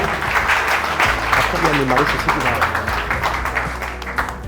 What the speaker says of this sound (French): Est-ce qu'on peut applaudir pour lui simplement?